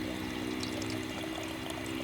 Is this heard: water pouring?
yes